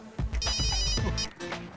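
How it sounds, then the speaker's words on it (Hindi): A telephone rings with an incoming call, a short repeated electronic ring in quick bursts, close and clear with no talk over it. "मेरी बीवी का फोन है।"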